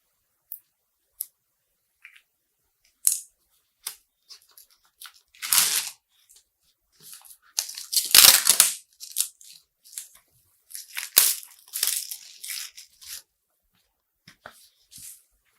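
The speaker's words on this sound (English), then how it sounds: "So now let's take the knife and remove the shrink wrap." A knife slices and tears shrink wrap off a boxed Thermaltake TR2 S550W power supply, heard as scattered close clicks and crackly plastic rips that build into longer tearing bursts, with quiet gaps between them.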